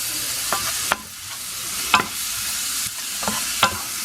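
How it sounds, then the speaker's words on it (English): Sauce being stirred around in a pan, seasoned with a little Aunt Jemima syrup, with a steady broadband sizzle and several distinct scraping strokes spaced about a second apart, close up and without voices. "I'm going to stir this around."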